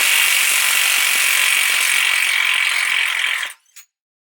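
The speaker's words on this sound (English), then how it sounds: "Now I just have to remove all the bolts and remove the axle nut" Rapid ratchet clicking while removing bolts and the axle nut from a 2011 Toyota Camry front wheel assembly, one loud continuous run close by that stops abruptly, followed by a brief final click.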